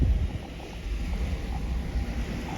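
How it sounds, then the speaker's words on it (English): Water of Aransas Bay lapping along a shoreline lined with historic homes, a steady low wash with wind noise rushing across the microphone and no voices. "And who doesn't love to hear the sound of the water?"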